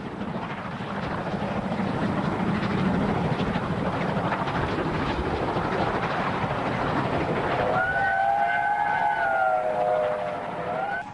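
A heavy steam-hauled parcels train rumbles and clatters steadily past at close range at Winwick, 1966–67, then a drawn-out whistle sounds over the noise near the end.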